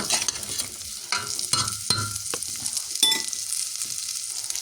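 Steady crackling sizzle of food frying in butter and ghee, with occasional scraping and stirring clatters from a utensil in the pan.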